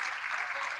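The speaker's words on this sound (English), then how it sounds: "Let's give a big applause to him." Audience applause at a conference day session, a steady wash of clapping from a crowd heard briefly and evenly.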